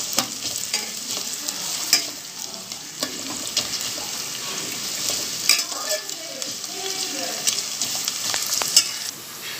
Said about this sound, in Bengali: পেঁয়াজটা আমরা এবার একটু লাল করে ভেজে নেব।